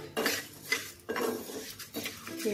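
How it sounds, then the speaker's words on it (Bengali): Sona moong dal is dry-roasted in a pan for bhoger khichuri, a spatula scraping and stirring in three rough bursts, with grains rattling against the metal up close. "খোলায় আমি ভেজে নেব মুগ ডালটা।"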